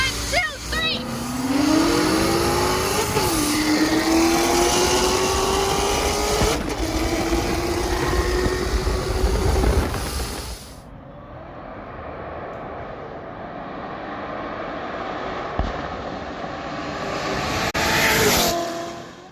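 Two procharged C6 Corvettes with manual transmissions racing side by side, supercharged engines roaring close and loud with audible rising revs and shifts, then fading into the distance.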